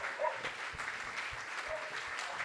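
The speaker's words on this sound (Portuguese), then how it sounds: "uma salva de palmas para o Humberto Werneck" A modest round of applause from a book fair audience, fairly quiet and a little distant, with scattered claps and a faint murmur of voices underneath.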